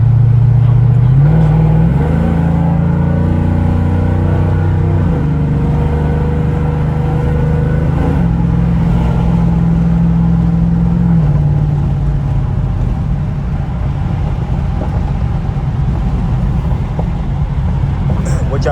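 A modded race truck with a cammed, full-bolt-on 5.3 V8 revs hard while doing donuts under a bridge, the engine note climbing and falling in loud surges before settling into a rougher rumble, with voices talking over it.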